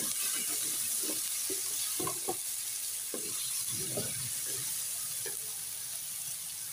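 Chicken frying in a pan, a soft steady sizzle with scattered light clinks and stirring taps from a utensil, fairly quiet and close, no talking.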